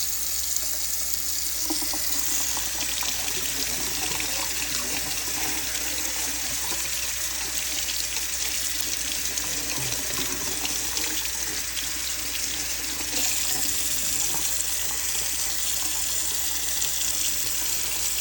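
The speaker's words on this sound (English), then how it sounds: "I'm going to pull these two out and I'm going to rinse them off good." Tap water running steadily into a sink to rinse vintage Red Line Hot Wheels toy cars after a vinegar soak, a continuous close splashing gush with no pauses or speech.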